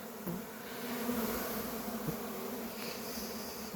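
Dense, steady buzzing of many bees at an opened beehive, a close continuous hum with individual insects passing nearer now and then, no talking.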